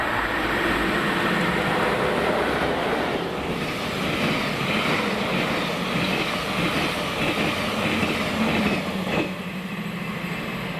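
A train pulled by locomotive 92014 passes on the Polmadie to Edinburgh sleeper service in Scotland, a steady loud rumble with rail clatter filling the whole stretch and easing slightly near the end.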